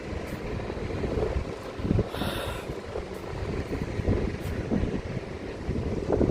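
Strong wind sweeps across Fahaheel beach in Kuwait, buffeting the microphone with a continuous loud roar and rougher gusts.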